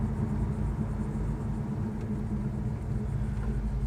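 A 1969 Chevrolet Chevelle with a big block engine rumbles steadily while driving on a hot Daytona day, a low, even drone heard from inside the car.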